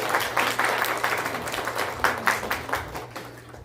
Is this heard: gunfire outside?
no